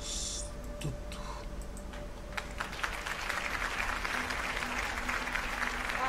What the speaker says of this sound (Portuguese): E aplausos.